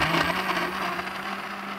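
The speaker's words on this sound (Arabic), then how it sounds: "وبعدين نضرب كل حاجه في الخلاط" An electric blender whirs steadily close by while blending banana juice, a continuous motor hum with a churning, buzzing texture throughout the short burst and no talking.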